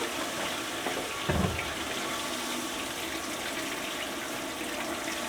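Hot water pours from a tap into a bucket in a milking setup, a steady, full rushing stream that stays constant and close throughout, with a brief clunk near the start.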